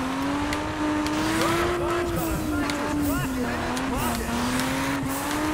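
A race car in Juiced 2 runs a lap with a steady, loud engine drone that rises and falls with gear changes and brief tire squeals, under continuous talking.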